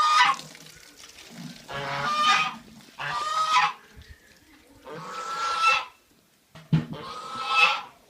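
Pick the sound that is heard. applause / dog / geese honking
geese honking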